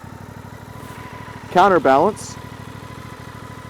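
A motorcycle engine runs steadily at idle throughout during a sharp, full-lock turn, with a brief rise in revs midway over a spoken word.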